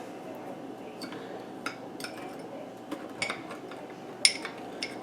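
Metal spoon stirring lime juice into a pot of Thai chicken curry coconut soup, giving sparse light clinks and scrapes against the pot over a low steady background hum.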